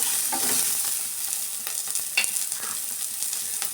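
Onions and garlic fry in a pan with a continuous close sizzle, broken by scraping stirs and occasional louder crackles.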